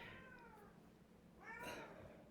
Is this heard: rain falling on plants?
no